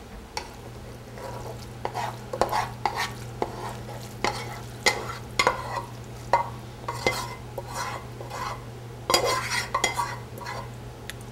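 A spoon stirs macaroni and cheese in a medium-sized bowl, giving a steady series of close, moist scraping and clinking strokes against the dish over a low constant hum, with no talking.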